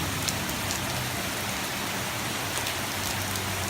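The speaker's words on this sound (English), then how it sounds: "some good rain." Steady, dense rain pours down outdoors, a constant close hiss of drops on surfaces with scattered sharper taps, no voices.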